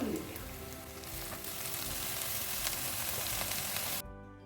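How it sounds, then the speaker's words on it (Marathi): Onion fries in hot oil with chillies and garlic, a dense, even sizzle close by that carries on for about four seconds and then cuts off abruptly. "आता हा कांदा लाल होईपर्यंत परतून घ्यायचा"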